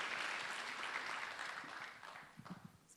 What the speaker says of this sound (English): we're going to do one more round of applause.